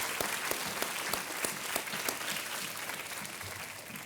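Studio audience applause on the Hindi quiz show Kaun Banega Crorepati, a dense, loud, sustained burst of clapping from the crowd that holds steady throughout with no voices over it.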